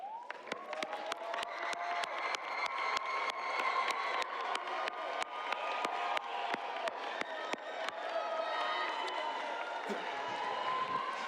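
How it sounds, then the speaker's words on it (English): Graduates at an Eastmoor Academy graduation ceremony applaud their families and guests, a dense sustained round of clapping with crowd noise and scattered cheers, steady and loud throughout. "Please join me in giving your family and guests a round of applause"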